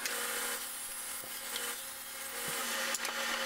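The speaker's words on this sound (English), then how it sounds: "So I'll start by cutting out some plywood." A saw cuts through plywood in a close, steady rasping whine that holds for a few seconds, with small knocks from the workpiece.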